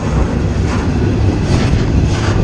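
A freight train rolls along the rails near St. Louis, a loud, dense, continuous rumble and roar with steady rattling throughout and no voices.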